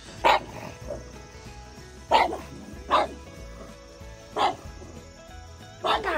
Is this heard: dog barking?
yes